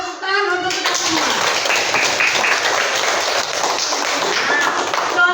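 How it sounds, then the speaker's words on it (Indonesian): Young children in a primary school classroom clap their hands together in a dense, sustained round of applause that lasts several seconds, loud and close, following a brief adult voice. "Ayo kita kasih tepuk tangan untuk kita semua."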